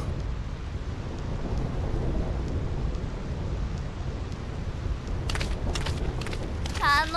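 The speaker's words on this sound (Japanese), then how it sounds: "ここの雷は止むことがない。" Thunder rumbles steadily as a low, continuous rolling roar with hiss like rain in the stormy Thunder Plains area of Final Fantasy X HD Remaster, with brief sharper crackles near the end.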